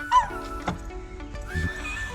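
Dogs left inside a parked van whine and yip in short, close bursts, with brief whimpers broken up across a couple of seconds.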